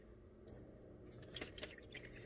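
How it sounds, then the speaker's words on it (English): A countertop AeroGarden Harvest Elite Slim circulates its water with a faint, soft trickling and a few light drips and gurgles over a low steady background hum, sitting quietly in the room with no voices. "that little trickling you hear in the background is the garden doing its little water circulation that it does"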